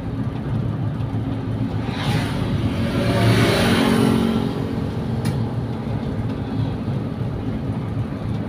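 A Toyota Kijang GE 1.8 with a carburetor, running non-AC, steady engine rumble close by with a gradual swell in revs midway before settling back to an even idle-like drone.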